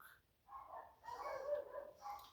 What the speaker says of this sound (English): Dogs will bark.